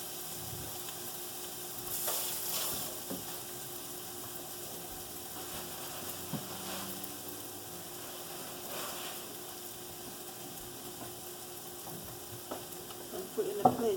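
Egg omelette with vegetables sizzles in a pan, a soft continuous frying hiss broken by occasional scraping stirs and light clinks of the utensil, close and fairly quiet.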